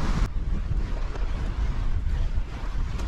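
Strong wind buffets a riverbank during a day of bank fishing with cut and live bait, a steady loud rumbling roar of gusts across the microphone with faint water wash beneath, lasting throughout.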